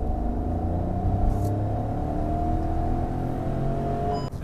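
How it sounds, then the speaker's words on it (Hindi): A Hyundai i20 N-line hatchback with dual exhaust accelerates, its engine note droning steadily and rising slightly in pitch, loud and close with a constant whirring rumble and no talking. "मैं थोड़ा सा पुल कर ही दिखा दूँ गाड़ी को"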